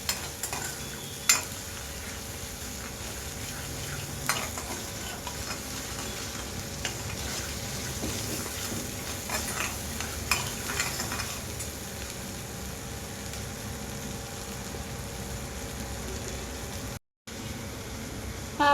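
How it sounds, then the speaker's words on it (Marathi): Onion, garlic and coriander masala paste stir-fried in oil for Kolhapuri misal, a steady close sizzle with a few scraping stirs, sounding alone with no talk. "आपण धणे घेतलेले आहे वाटणात आणि कांदा लसूण मसाला घेतला आहे, टाकताय आणि परत आता हे छान परतून घेऊ।"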